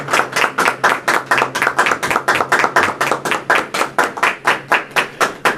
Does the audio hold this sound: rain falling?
no